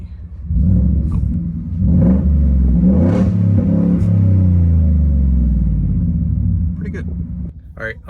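Unmuffled exhaust on a Ford F-150 pickup, its engine revving in repeated loud, deep surges that rise and settle before dropping to a quieter idle near the end, close up and steady with no talking.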